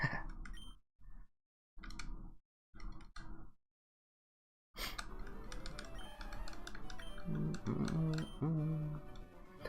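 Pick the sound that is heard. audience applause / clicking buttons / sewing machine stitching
clicking buttons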